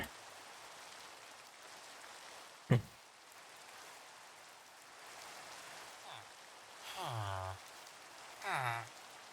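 Steady rain hiss in Minecraft fills the whole stretch, with a sharp knock partway through and a couple of brief voiced sounds near the end.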